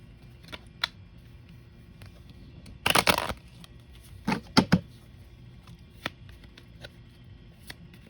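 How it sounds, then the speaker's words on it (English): Tarot cards being shuffled by hand during a reading, a short riffling burst followed by a couple of quicker card flutters and scattered soft taps, close and quiet with no talk. "I feel like I need to shuffle this one more time."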